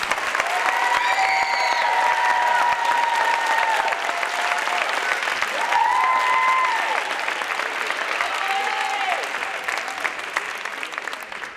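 Sustained audience applause for graduates at a District Wide Programs Class of 2016 commencement, loud and steady for about eleven seconds with cheers and shouts rising over the clapping.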